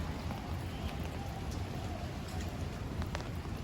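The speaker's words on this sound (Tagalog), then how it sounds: "Kaso, ang lakas ng ulan at mahangin eh." Steady heavy, windy rain pours down on a street in Taiwan, a dense continuous hiss of drops without pause, moderately loud and close.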